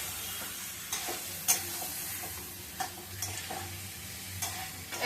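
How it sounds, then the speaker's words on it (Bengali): Fish being stirred into spices in a hot pan, with a steady sizzle and scattered sharp scrapes and clacks of the stirring utensil, close and moderately loud, no talking. "মাছগুলো দিয়ে মাছের সাথে মশলাটা মিশিয়ে দিবে একবার ভালো করে।"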